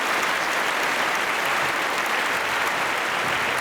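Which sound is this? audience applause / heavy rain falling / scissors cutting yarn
audience applause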